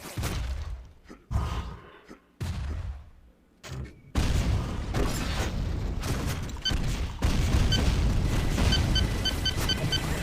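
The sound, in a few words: chain gun firing in the video game Painkiller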